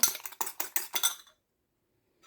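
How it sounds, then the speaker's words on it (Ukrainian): Eggs are whisked to a foam in a bowl, a fast run of about eight sharp clinking strokes of utensil on dish that stops suddenly and leaves silence, with one more faint tap at the end. "Збиваю добре до пінки"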